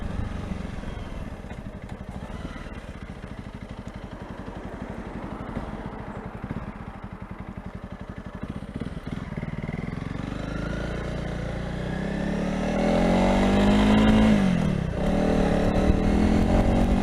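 A Honda CRF300 Rally motorcycle engine hums steadily up close, then revs harder and climbs in pitch toward the end, with no talk over it.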